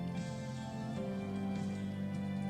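Rain falling outside a porch gives a steady, even wash of patter throughout, mixed with a low sustained tonal hum, with no talking.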